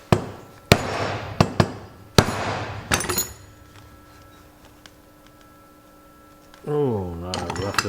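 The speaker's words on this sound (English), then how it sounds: "I like to smack them a little bit with a screwdriver, and sometimes that jarring just releases it." A screwdriver smacks a Zenith K5 carburetor part from an International Harvester W30 tractor, giving several sharp metallic knocks close by in the first three seconds, then a quiet stretch with a faint tone before a brief voice.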